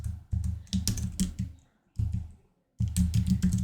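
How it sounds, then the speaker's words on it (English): Brisk typing on a computer keyboard, with close, clear rapid keystrokes coming in three bursts separated by short pauses and no voices. "I'm going to type"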